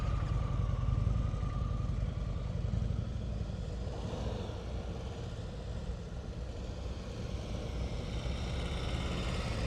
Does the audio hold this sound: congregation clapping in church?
no